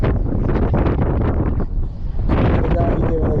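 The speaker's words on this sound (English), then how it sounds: "Can we just get a break from this wind?" Strong wind pounds the Long Island shoreline, loud roaring gusts buffeting the microphone almost continuously, with a short lull partway through before the blast returns.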